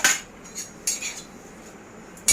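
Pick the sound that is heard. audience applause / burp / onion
onion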